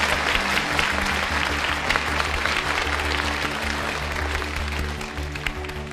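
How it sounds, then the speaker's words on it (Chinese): A studio audience claps steadily for a struggling contestant on a Chinese quiz show between class monitors; dense, even applause fills the whole stretch at a constant level, with a faint low hum underneath. "徐胜鼓鼓掌，加油。"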